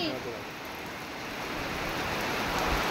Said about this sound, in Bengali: দেখো গাইস দেখো অঝোরে বৃষ্টি আসছে, অঝোরে বৃষ্টি